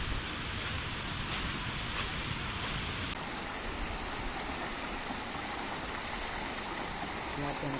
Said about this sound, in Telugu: ఆ వర్షంలో ఆ వాటర్ ఫాల్ అదిరిపోయింది